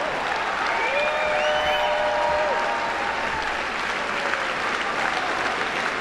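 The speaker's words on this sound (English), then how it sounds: "he's like in the crowd going like this, and everyone's cheering" A large crowd at CPAC 2022 applauds and cheers continuously, a dense, steady roar of clapping with a few whistles rising above it.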